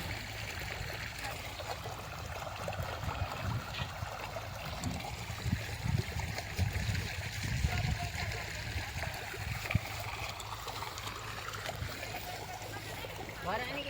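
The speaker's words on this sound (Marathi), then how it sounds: "पाटाचं पाणी" Irrigation channel water flowing steadily beside a maize field in a village, a continuous trickling stream with occasional splashes, with people talking over it.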